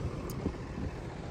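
A tractor mowing reeds in a field runs as a steady low engine drone, moderately loud and continuous throughout, with no voices.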